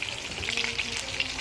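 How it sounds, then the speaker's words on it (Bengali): Fish frying in hot oil in a cook's pan, giving a close, busy crackle and sizzle with sharp spitting pops throughout. "দেখো মাছ ভাজা হচ্ছে,"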